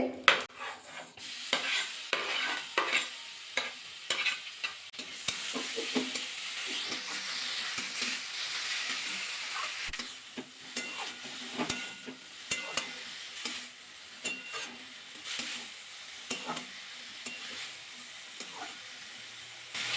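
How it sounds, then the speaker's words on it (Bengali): Beetroot and carrot with dried chillies fry in a pan, a continuous sizzle punctuated by frequent sharp scrapes and clinks of a spoon stirring against the metal, close and fairly loud throughout. "আবার একটু নাড়াচাড়া করে নিলাম লাল বিট গাজর দিয়ে দেবো একসাথে"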